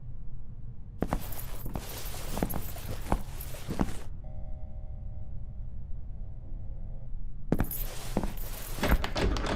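Keys jingle with footsteps in two bursts of walking through an asylum, separated by a quieter stretch with a faint steady hum.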